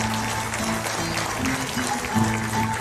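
An audience applauds a Portuguese improvising poet. Moderate clapping runs throughout, mixed with sustained musical or sung tones underneath.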